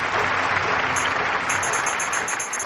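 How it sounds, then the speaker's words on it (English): Stadium crowd in a London 2012 weightlifting event, a steady wash of applause and rhythmic clapping filling the arena, loud and continuous with no voices on top. "The rhythmic clapping helping out."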